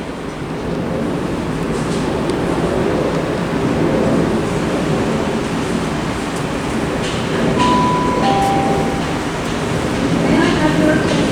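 A South Western Railway electric passenger train, unit 450104, arrives at Reading station, rumbling steadily nearby with broad continuous noise and faint rail clatter, a brief high tone sounding partway through; a voice talks over it.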